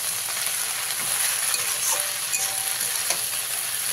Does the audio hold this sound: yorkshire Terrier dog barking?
no